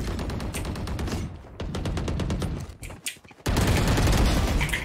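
Rapid automatic gunfire in the Valorant video game, dense bursts of repeated shots with a short break in the middle before a louder, continuous volley resumes.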